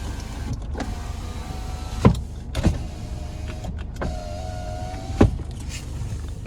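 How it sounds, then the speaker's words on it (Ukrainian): The electric power window of a 2019 Volkswagen Passat B8 Highline runs in short bursts, a thin whirring motor hum ending each time in a soft thump as the glass stops, repeated several times inside the car. "склопідіймач працює також працює"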